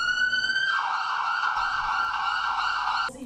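A loud, sustained siren tone at a protest outside the KPK building in Indonesia holds steady, shifting slightly in pitch before cutting off near the end.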